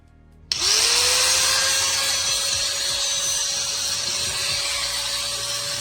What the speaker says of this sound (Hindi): ग्राइंडर को ऑन करके देखते हैं।